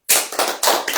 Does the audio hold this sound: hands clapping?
yes